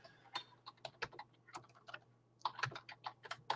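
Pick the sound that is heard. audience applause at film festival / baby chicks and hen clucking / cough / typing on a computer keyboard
typing on a computer keyboard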